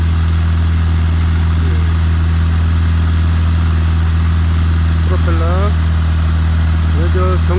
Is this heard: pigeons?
no